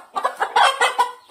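Several short clucks from a chicken in a home backyard where cats are fed, coming in uneven bursts close by with no talking.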